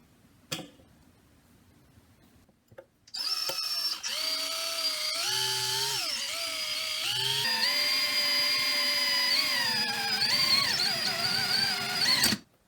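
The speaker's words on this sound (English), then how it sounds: "I'm going to drill a hole right here with my drill" A power drill starts up after a quiet moment and whines steadily as it bores into a steel blade, the pitch dipping and rising under load, close and loud.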